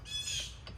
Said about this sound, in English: Blue Jays.